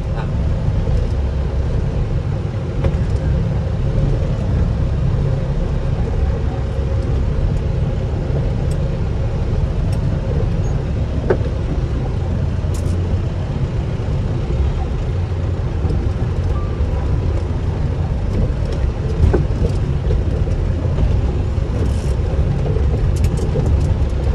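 A 2017 tempo van with 2.7 lakh km on its engine, driving along in second gear, giving a steady close rumbling engine and road drone inside the cabin throughout.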